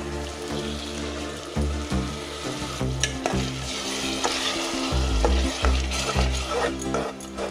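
Ground masala frying in a pan with sprouted legumes for a sprouts pulao, a steady close sizzle broken by repeated scraping stirs of the spoon against the pan, with no talking.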